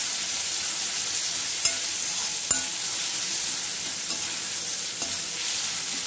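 Chopped onions sizzle steadily in a pan for a drumstick masala gravy, a constant bright frying hiss with a few soft scrapes of a spoon stirring through.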